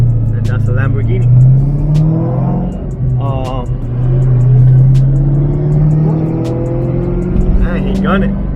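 A 2003 Ford SVT Cobra accelerating hard, its engine rising through revs in long climbing pulls with a gear change midway, loud and close, while people talk over it.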